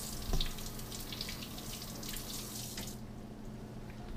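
A steady stream of tap water runs over a solid vegetable in a kitchen sink, with a small splash near the start and a continuous hiss that thins out toward the end.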